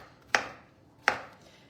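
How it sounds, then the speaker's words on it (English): Two sharp knife chops on a cutting board, spaced under a second apart, as zucchini is cut for a pot of soup in a home kitchen; close and crisp with quiet between strokes. "it's just a little chopping and putting in there"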